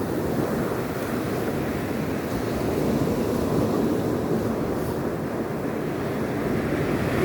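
Ocean waves washing onto a beach, heard as a steady, loud broadband roar of surf with some wind noise against the microphone, continuous throughout with no talking.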